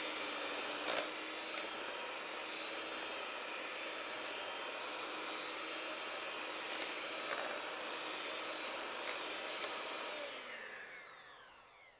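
An electric mixer whips a powdered sugar mixture with a loud, steady motor whir that holds for about ten seconds, then winds down and fades at the end.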